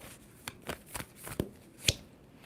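Tarot cards shuffled by hand during a card reading, a series of crisp riffling bursts about half a second apart, close and clear with no talking.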